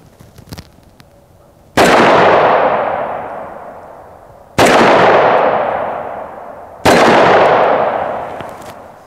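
Three loud .357 Magnum gunshots strike AR500 steel body armor, each a sharp close crack with a long ringing decay, spaced a few seconds apart after a faint click.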